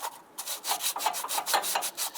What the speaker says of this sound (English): We're just going to kind of refinish or clean up the mating surface.